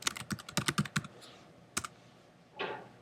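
Keystrokes on a computer keyboard come in a quick cluster of close clicks, pause, a single tap, then a softer swipe-like rustle at the end.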